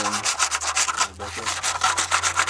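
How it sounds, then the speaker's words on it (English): Sandpaper is rubbed up and down on the metal parts of a car door lock actuator, giving a quick, rhythmic series of close, scratchy strokes with a short pause midway. "I just simply took the sandpaper, went up and down a few times"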